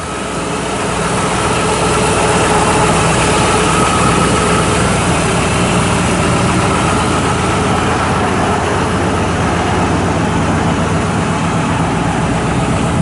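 A 1956 Chevrolet Bel Air engine idles with a deep, steady rumble through dual exhaust, loud and close, holding an even burble throughout.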